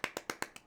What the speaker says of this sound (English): Golf clap.